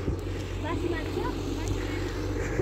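A tractor approaches along an uphill mountain road near Jumla, Nepal. Its engine drones steadily and fairly near, mixed with wind noise, while people talk nearby.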